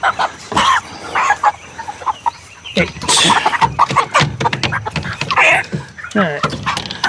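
Chickens cluck and squawk at close range while being caught at night and crated for harvest, with turkeys also on the farm; the loud, irregular bursts of bird calls are mixed with rustling and handling noise, and people talk among them.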